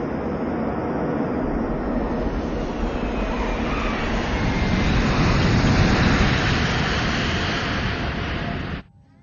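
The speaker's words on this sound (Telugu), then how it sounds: "మన ఫ్లైట్ని గోవాలో ఎమర్జెన్సీ ల్యాండింగ్ చేస్తున్నాం" Steady loud roar of an airplane's engines in a film scene of an emergency landing, broadband rumble holding for about nine seconds before cutting off abruptly.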